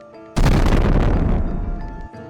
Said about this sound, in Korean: 7초 후 선두 트럭이 폭발하며 화염에 휩싸입니다. 탄약을 실은 트럭이라 2차 폭발이 일어납니다.